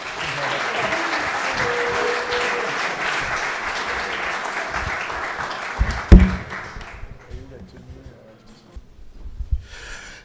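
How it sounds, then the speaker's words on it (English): Audience applauding a startup CEO introduced at a pitch event, loud sustained clapping that runs for about six seconds, then fades to scattered claps and faint breathing and shuffling. "Give a lot of applause and love to my friend,"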